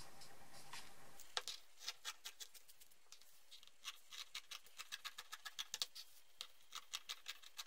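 Fabric being cut all around with scissors for a sewn shopping bag, a quiet, steady run of crisp snipping clicks at an even rhythm, close and faint, with no voices.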